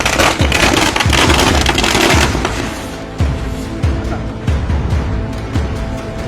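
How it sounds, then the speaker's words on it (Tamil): Firecrackers burst by villagers celebrating in a Telangana village, a dense crackling barrage for the first three seconds followed by sharp separate bangs at irregular intervals, loud and close. "பிடித்ததும் வெடிவைத்து கொண்டாடிய ஊர் மக்கள்."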